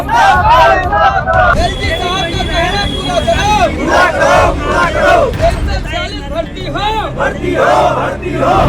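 A large crowd of protesters alleging a recruitment scam outside a Home Guard headquarters shouts slogans loudly and continuously, with many overlapping voices chanting and calling out close by throughout.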